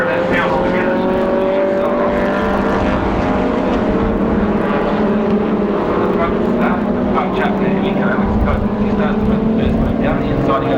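Classic race cars at the 1996 Skope Classic, Ruapuna circuit, including a big Jaguar and a small Cooper, roar continuously with steady engine drones and rising pitch sweeps, loud and sustained under a commentator's voice.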